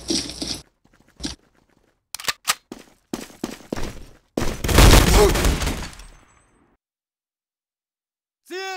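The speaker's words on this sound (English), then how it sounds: "I shoot people. Handgun. Pistols only." Pistol gunfire in the Day of Defeat: Source video game, with sharp separate shots in an uneven rhythm, then a longer dense burst of firing that fades into quiet before a brief ringing tone.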